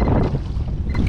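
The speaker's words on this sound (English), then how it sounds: "Let's keep paddling." A kayak paddle splashes and swishes through sea water in Cockburn Sound, a brief close sloshing burst mixed with wind buffeting the microphone.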